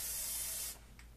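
A spray can of Plasti Dip sprays onto a car windshield in one steady, loud hissing burst that cuts off abruptly, leaving faint background noise.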